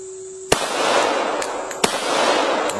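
Glock 21 Gen 4 pistol shots ringing off a steel gong: two sharp, loud reports about a second and a half apart, each followed by a long, bright metallic wash that slowly decays, close and without voices.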